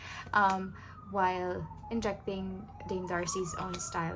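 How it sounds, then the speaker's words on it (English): A distant siren wails faintly, its pitch slowly rising and falling, beneath a person speaking close to the microphone. "Sorry for the siren."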